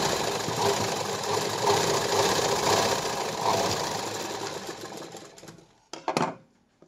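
A sewing machine stitches a silk blouse in one long, steady run with a fast, regular rhythm, gradually slowing and fading near the end before a brief clatter of handling.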